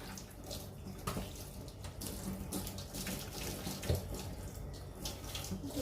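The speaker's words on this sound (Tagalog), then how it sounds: "Ang warm water ko, oh, ang sarap maligo." Warm tap water runs steadily from a faucet while a cat is bathed, a continuous close splashing stream with small irregular splashes and no talk.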